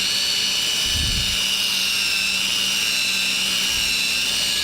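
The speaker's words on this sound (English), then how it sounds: "trying to kind of chamfer the edges of that center hole" A rotary tool chamfers the edges of a center hole in a small part, giving a steady high-pitched whine that holds throughout, with a brief low thump near the start.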